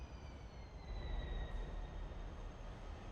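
Freight train in Transport Fever rolling past: a broad steady rumble with a faint high wheel squeal drifting slightly downward, moderately loud and continuous, with no voices.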